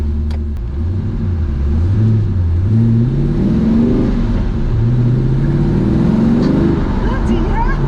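An Ultima RS sports car accelerating from inside the cabin, engine note climbing and falling through gear changes, loud and close, with voices talking in the car.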